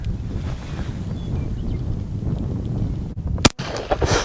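A single sharp gunshot from an original 1860 Colt conversion revolver fired outdoors, ringing out near the end over steady wind noise.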